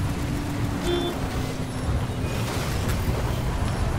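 Car rumbling along in the video game Pacific Drive, a steady low engine and road drone that runs continuously throughout, with faint speech mixed in.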